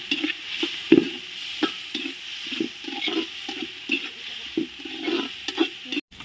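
Chopped tomatoes sizzle and crackle in a hot pan, with soft stirring scrapes recurring in an irregular rhythm, close and fairly quiet.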